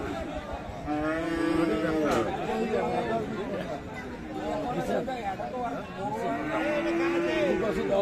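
Cattle low at a busy Bangladeshi cattle market, with several long, loud moos rising over a constant crowd of chattering voices.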